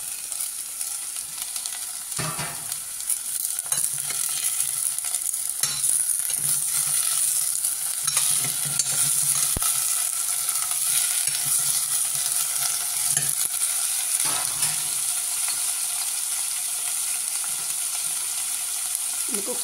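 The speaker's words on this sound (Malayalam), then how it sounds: "ഇതെല്ലാം കൂടെ നന്നായിട്ടങ്ങ് വഴറ്റണം." Cluster beans curry with tomato, ginger and green chillies sautés in a pan, a loud steady sizzle with repeated scraping stirs and occasional clinks throughout.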